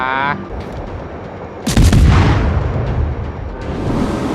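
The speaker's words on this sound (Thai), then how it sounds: "กระหน่ำข้างยิงเลยดีกว่า" A warship's broadside thunders in World of Warships: after a short voice, a loud sudden artillery blast erupts and rolls on in booming, crackling reverberation that slowly fades.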